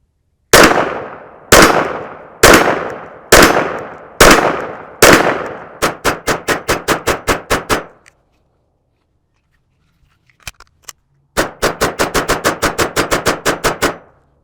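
A Walther WMP .22 Magnum pistol fires Federal Punch ammunition: five loud, evenly spaced reports with long ringing tails, then a quick string of sharp cracks, a short pause, and another rapid run of close shots.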